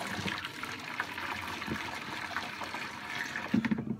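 Liquid poured steadily through a funnel into a container, giving a continuous close splashing trickle that runs for about four seconds, with a slightly fuller gurgle near the end.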